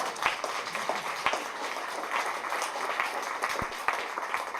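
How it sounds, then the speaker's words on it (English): Audience applause fills a room at an author's book talk, a steady dense patter of many hands clapping at moderate level with a few sharper claps standing out, continuing without letup. "Okay, round of applause."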